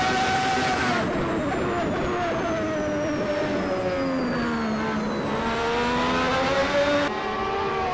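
A race car engine in the Assetto Corsa sim racing game at Silverstone GP holds a loud, steady whine that drops in pitch as it shifts gears, with other engines droning in the background and a commentator talking over it.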